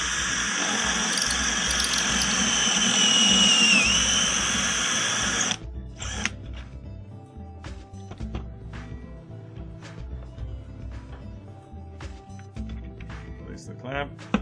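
A drill at full speed bores pocket holes through a pocket hole jig, a loud steady whine for about five seconds that stops sharply, followed by quieter handling clicks and knocks.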